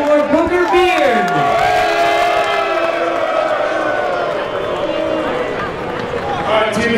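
Live audience at a comedy fight event cheering for fighter Booger Beard, a loud sustained swell of shouts and whoops from many voices, dipping slightly then rising again at the end.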